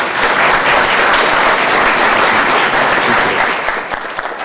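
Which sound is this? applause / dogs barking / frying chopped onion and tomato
applause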